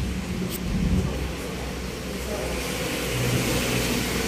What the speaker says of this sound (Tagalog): May mga dumadaan na sasakyan dyan.